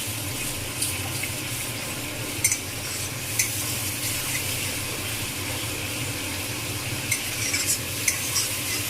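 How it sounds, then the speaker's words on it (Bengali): Masala with ginger, cumin and a splash of water sautéed in a pan: a low, moist sizzle with scattered scrapes and taps of a spoon as it is stirred, close and steady throughout. No speech is heard. "খুব ভালো করে মশলাটাকে কষাতে হবে"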